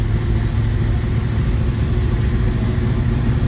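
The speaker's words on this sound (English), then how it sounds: "We'll let this warm up and then clear it out a little bit and we'll let it idle." A 1980 Chevrolet Camaro Z28 with a 4-speed manual sits idling, its engine giving a steady, continuous low rumble close by with no talk over it.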